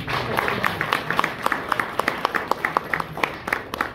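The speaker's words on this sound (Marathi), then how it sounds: "एकदा आपण ना परत एकदा जोरदार टाळ्या वाजवूया." A crowd at a devotional Sant Vani program for Aashadhi Ekadashi gives steady, enthusiastic applause, many hands clapping in a dense wash with sharper individual claps standing out throughout.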